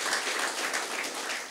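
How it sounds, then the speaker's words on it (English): Audience applause at a business talk, a steady dense patter of clapping filling the short span at moderate level with no break. "Let's clap for that one."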